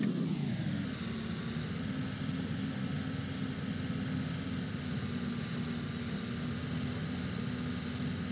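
Steady mid-pitched engine drone of a vehicle driving in the game A Dusty Trip, heading up behind a farmhouse on the plains map, continuous and even for the whole stretch with no talk.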